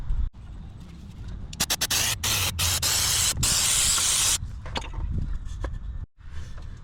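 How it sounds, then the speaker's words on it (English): Brake cleaner sprayed from an aerosol can onto a 2005 Nissan Maxima engine, several short hissing bursts followed by one long loud spray, with a few clicks and handling sounds. "I'm going to hit this one more time with some brake cleaner before we start removing this plug"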